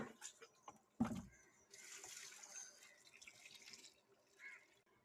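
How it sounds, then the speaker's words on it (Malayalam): Water poured onto a fruiting ambazhanga (hog plum) plant, a quiet splashing trickle after a sharp knock, faint and close with soft background noise. "ഞാൻ വെള്ളം ഒഴിക്കട്ടെ."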